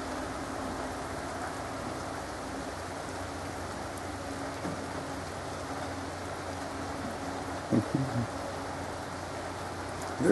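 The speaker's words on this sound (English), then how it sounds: "Oh, it's raining, so I'm in the shade trying to go for a pee." Steady rain falling outdoors where a husky and a malamute roam, a constant soft hiss of drops with a faint low hum beneath and a few brief thumps near the end.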